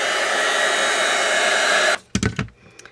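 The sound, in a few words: heat tool melting copper embossing powder on stamped card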